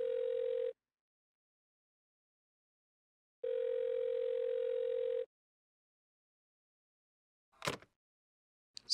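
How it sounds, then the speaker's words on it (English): Ringback tone of an unanswered phone call in a karaoke horror video game, two steady electronic tones with long silent gaps between them, followed by brief faint clicks. "It's the phone."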